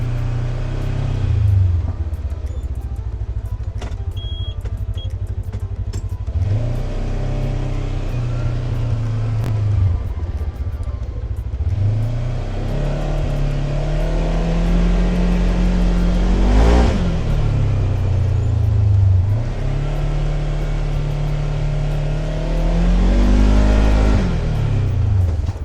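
Segway Fugleman UT10 off-road utility vehicle driving over difficult terrain, its engine rising and falling through repeated revving surges and accelerations, a steady mid-pitched rumble with no talk.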